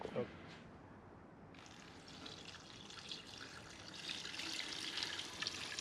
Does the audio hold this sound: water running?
yes